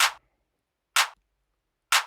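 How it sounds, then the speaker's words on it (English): Layered electronic clap samples in an Ableton drum track hit three times at an even one-second pace, each a loud, crisp, bright burst with a brief decay and silence between. "I layer 2 to 3 claps"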